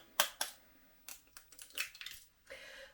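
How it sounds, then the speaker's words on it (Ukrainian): Three eggs being cracked into a mixer bowl for egg crepes give sharp, close shell cracks and taps in an uneven series, followed by a soft wet pour. "розбиваю в чашу міксера три яйця"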